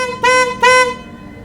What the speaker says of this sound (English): press your horn 3 times